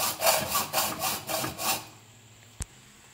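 A pipe is trimmed with a hand saw for a DIY Honda Talon snorkel: five steady back-and-forth rasping strokes, close and even, stop abruptly, followed by a single sharp click.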